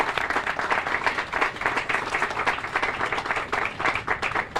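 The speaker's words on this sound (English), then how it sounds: "That deserves a round of applause." Sustained audience applause at a public funding announcement for new MetroLink rail cars in Metro East, a dense wash of many hands clapping steadily for the whole stretch, fairly loud and close.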